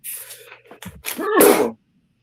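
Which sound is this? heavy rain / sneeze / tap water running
sneeze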